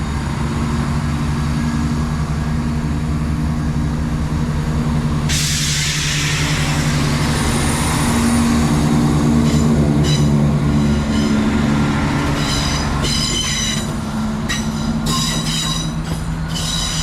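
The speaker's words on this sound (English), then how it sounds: "East Midlands Railway 534 off to Matlock." An East Midlands Railway Class 534 train passes on the Derwent Valley line bound for Matlock, a loud steady rumble with squealing wheels and rhythmic rail clicks that continues for the whole stretch.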